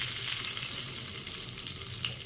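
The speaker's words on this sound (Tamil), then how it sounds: "கடுகு வெடிக்கணும் நல்லா." Mustard seeds, fenugreek and urad dal fry in hot oil with a dense, steady sizzle and fine crackling, close and continuous throughout.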